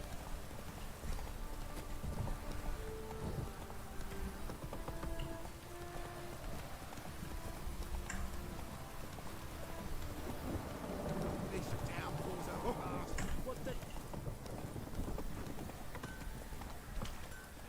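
Geralt's horse Roach galloping in The Witcher 3: Wild Hunt, a steady, fairly soft stream of hoofbeats running the whole time beneath rain-like ambience and game music, with voices talking intermittently.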